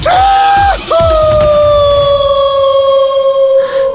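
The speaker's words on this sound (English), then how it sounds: "my scream was not quite as elegant as Maui's was in the movie" A person screams while falling, a loud, sustained high-pitched yell that breaks briefly, then resumes as one long held cry lasting several seconds, close and strained.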